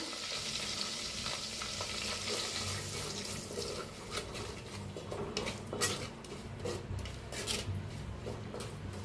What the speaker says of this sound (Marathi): जी मसाला उरला होता ते बी भाजून घेऊया